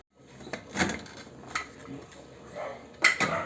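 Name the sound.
opening the lid of a pressure cooker pot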